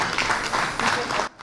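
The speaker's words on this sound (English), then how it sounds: "can we give a round of applause for the men who are in our midst to support us as women?" An audience at a public event in Lagos gives a short, dense round of applause that cuts off abruptly near the end.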